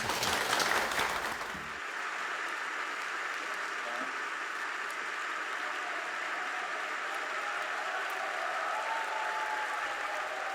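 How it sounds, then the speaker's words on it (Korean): Sustained audience applause at a corporate concert event, a dense steady wash of many hands clapping that fades slightly and continues evenly for about ten seconds. "우리 영웅들을 위해서 박수 한번 할까요?"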